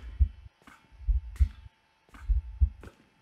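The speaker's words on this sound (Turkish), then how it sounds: "Kalp atışı var." Heartbeat effect in the Slender horror game, a loud, deep double thump repeating three times at a steady pace, with no talking over it.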